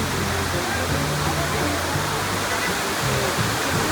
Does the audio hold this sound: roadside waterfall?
yes